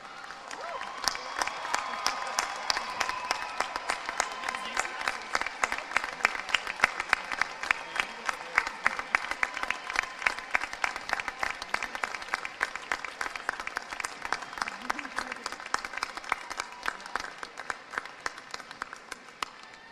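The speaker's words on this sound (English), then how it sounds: "the graduates take the opportunity to show their appreciation by a round of applause for all of you" Graduates at a university commencement ceremony applaud their families and friends, a broad, sustained wash of clapping from a large crowd that holds steady and then tapers off near the end.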